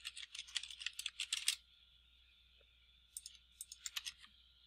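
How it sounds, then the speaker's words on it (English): Fast bursts of keystrokes on a computer keyboard as a domain name is entered, two quick clusters of close, crisp clicks separated by a quiet pause. "we'll go ahead and type in the domain name here"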